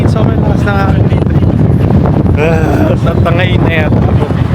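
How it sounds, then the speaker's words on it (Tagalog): Strong gusts of wind buffet the microphone on the Las Vegas Strip, a loud continuous roar with someone speaking over it. "Ang lakas ng hangin. Sobrang lakas ng hangin dito."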